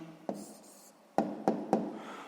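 A pen writes an answer by hand during a sixth-grade maths exercise, close and quiet, with a few sharp taps and short scratchy strokes spaced apart.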